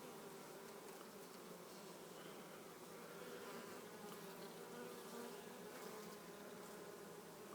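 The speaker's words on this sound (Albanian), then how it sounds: "Ja këtu një bletë e cila ka pjeshtin e bletës në shpinë" A honeybee carrying pollen on its back buzzes steadily and close by, a continuous droning hum with no pauses and no voices.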